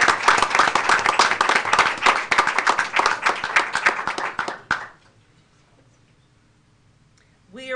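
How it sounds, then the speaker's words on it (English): A room of people at a school board meeting gives a round of applause, loud crisp clapping for almost five seconds that stops abruptly, followed by near silence with a faint voice at the end. "Please give this group a round of applause."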